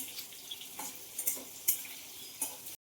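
Capsicum sizzles in hot oil in a pan, with steady frying hiss and scattered clinks and scrapes as it is stirred.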